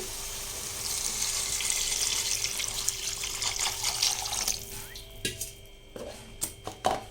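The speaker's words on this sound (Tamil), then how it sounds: "3 டம்ளருக்கு 6 டம்ளர் தண்ணி விடுறேன் நான்" Water runs steadily into a cooking pot for biryani for several seconds, then stops, leaving a few splashes and clinks.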